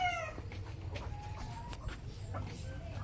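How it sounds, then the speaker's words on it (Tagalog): Chickens on a farm clucking and calling in short, irregular bursts at moderate distance over a low background rumble, with faint voices nearby. "ang daming manok"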